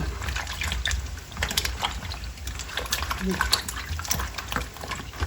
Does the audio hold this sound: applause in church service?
no